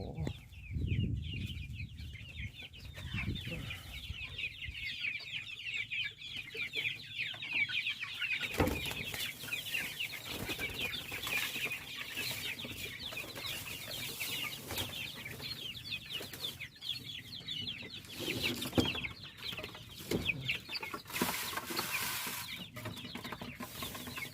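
Chickens cluck and chatter continuously on a rural farm, a busy, moderately distant flock with occasional wing flaps over steady outdoor background noise.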